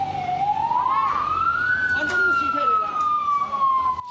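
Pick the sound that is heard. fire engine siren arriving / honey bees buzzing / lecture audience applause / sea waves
fire engine siren arriving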